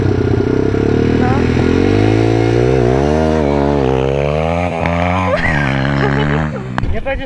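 A pit bike engine revs loudly up close on a grassy track, its pitch rising and falling through several throttle blips before cutting back near the end, with voices faintly underneath.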